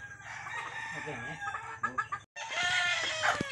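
Backyard chickens cluck in short bursts while a rooster crows loudly and close by, the calls overlapping in a busy, continuous farmyard chorus with a brief pause midway.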